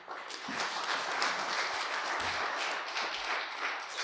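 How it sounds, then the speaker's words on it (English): An audience applauds after a short talk on disability and AI in Zimbabwe, a steady, fairly soft spread of many hands clapping over four seconds with no speech over it. "Give a round of applause once again to Soneni"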